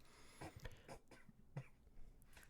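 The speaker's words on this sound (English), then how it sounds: "Just a little cough in my throat." A short, light throat cough from a man giving a dramatic reading, made up of a few quick bursts near the mic with no talk around them.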